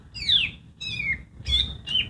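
A green leafbird sings loud, clear whistled phrases, four bright sliding notes in quick succession, close by, over a low background rumble.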